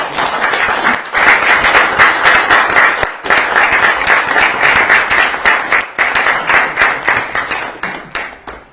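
A room full of people applauds after a group photo of the president with company chief executives at an official meeting with Nvidia's head, a dense, loud wash of clapping that holds steady before thinning into scattered claps at the end.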